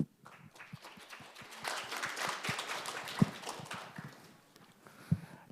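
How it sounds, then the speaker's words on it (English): An audience at a finance forum applauds, a broad, fairly faint wash of clapping from a large hall that swells midway and then thins out, with a few sharper individual claps standing out. "please give them a big round of applause"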